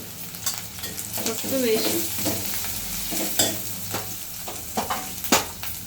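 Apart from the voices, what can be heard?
onions frying in a pan with turmeric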